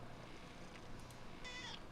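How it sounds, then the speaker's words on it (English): A cat meows in bursts over a steady background of other sound, moderately close, with tonal cries standing out near the end. "This cat's getting on my nerves."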